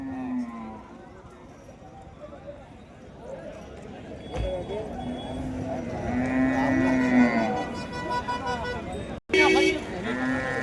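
Cattle and bulls at a busy Anantapur cattle market low repeatedly, with long, loud moos rising over constant crowd chatter and voices. A brief horn toot is also heard, and the sound cuts out for a moment near the end.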